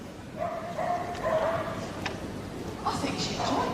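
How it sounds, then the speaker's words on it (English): A medium dog barks and yips repeatedly during a Crufts championship agility jumping round, sharp high barks in quick bursts, heard close behind an announcer's ongoing commentary and arena noise. "Well done by Mitzi, the noisiest dog we have seen so far this Sunday"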